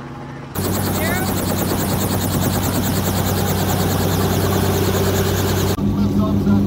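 A helicopter ride over a corn maze, with a loud, steady rotor and engine drone that holds close and continuous throughout, with the blade thumping and turbine whine constant and only a brief quieter moment at the start.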